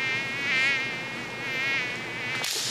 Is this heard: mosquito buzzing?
yes